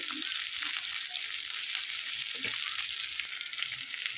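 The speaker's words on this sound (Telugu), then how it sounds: "పుదీనా, చింతపండు, కరివేపాకు వేసేసుకుందాం. ఇవి వేగేటప్పుడే" Mint, tamarind and curry leaves fry in a pan with a steady, close, bright hiss and crackle, continuous and even throughout, with faint stirring scrapes and no talking.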